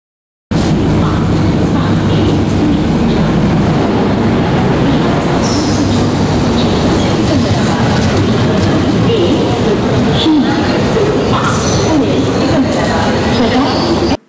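Rail noise at Kalaburagi (formerly Gulbarga) railway station: a steady, dense rumble of train and station sound that runs throughout under continuous speech.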